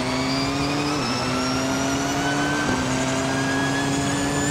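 A fast race car in the Forza Motorsport racing game holds a loud, continuous engine drone at near-constant pitch, with two brief gear-shift dips, and nothing else heard over it.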